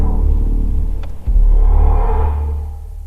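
Deep synthesized drone from a BMW XM super SUV, a Hans Zimmer–designed sound, rumbles continuously, dips briefly, then surges back stronger before slowly fading, with no talking over it.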